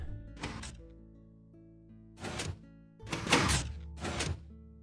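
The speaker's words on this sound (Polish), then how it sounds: "drzwi się zamknęły" A Minecraft door in a redstone relay build swings shut, part of a series of four sharp knocks and thuds spread over a few seconds. A sustained tonal hum runs underneath, and no one speaks.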